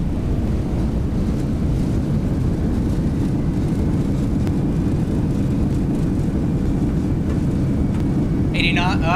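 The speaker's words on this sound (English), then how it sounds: "Line the nose down, reverse thrust." An MD-11 jet's engines roar steadily in reverse thrust during landing in the X-Plane flight simulator, a loud, broad, unbroken rush that fills the whole stretch.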